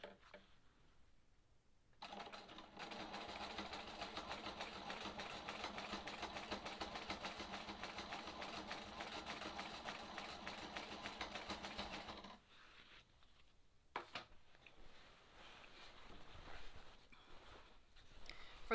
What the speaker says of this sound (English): Now we will ditch stitch from here back to the center